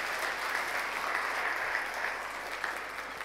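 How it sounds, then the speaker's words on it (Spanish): A church congregation claps together during a sermon, a broad, even roar of applause heard from a little distance, sustained without pause and moderately soft. "Demos un aplauso a Jesús por ello."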